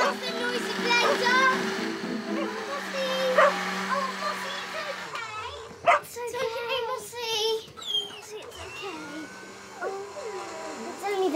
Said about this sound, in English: I think Mossy's barking at something outside.